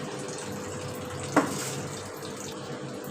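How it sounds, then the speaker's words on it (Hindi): Tap water runs steadily into a kitchen vessel being filled for washing food, a constant close rushing stream with one brief splash or clink partway through, no voices. "तो उसमें मैंने पानी भर लिया"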